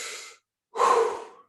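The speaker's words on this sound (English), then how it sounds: "the protocol is 30 deep inhales and then a relaxed exhale, but it's quite quick" Wim Hof method breathing: a quick inhale through the nose, a brief pause, then a fuller, relaxed breath out, close and clear with no talking.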